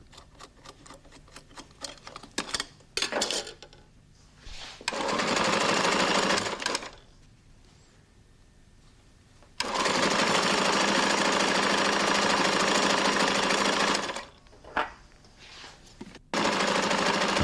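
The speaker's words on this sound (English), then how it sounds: "The Speedbinder sews about 3 to 4 metres of skirting strip in a minute, about 200 metres an hour." A Flexorand Speedbinder carpet binding machine sews skirting strips, its loud, fast mechanical stitching running in long continuous bursts, broken by quieter pauses filled with light ticking and clicking from the machine.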